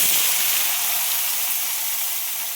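Fresh curry leaves sizzling in hot oil for a kidarangai citron pickle, a bright steady hiss of frying that holds loud and close throughout.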